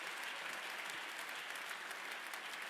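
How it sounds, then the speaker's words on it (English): A full room of demo day attendees applauds startup founders, even and continuous clapping that sounds fairly distant and soft. "Give a huge round of applause for all of our founders here today"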